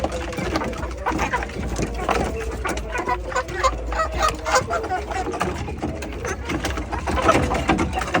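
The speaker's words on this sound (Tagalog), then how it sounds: "ang lakas kumain ng ating mga lagang manok sa ating patuka na may halong niyog" A flock of native chickens clucks and murmurs continuously nearby, busy pecking at feed mixed with coconut, with a person speaking faintly in the background.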